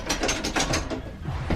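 A new elevator runs with a rapid, uneven ratcheting of gears and pulleys, a dense stream of clicks and clatters up close, with a louder knock at the end.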